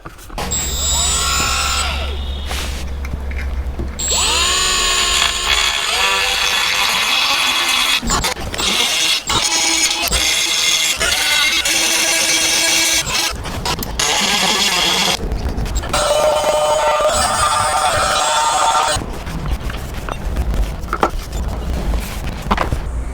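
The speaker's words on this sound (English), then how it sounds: "I can make some clearance with the die grinder" A die grinder cutting clearance inside a scooter engine case, heard as loud, shifting high-pitched whines and rasping bursts that rise and fall in speed over more than twenty seconds.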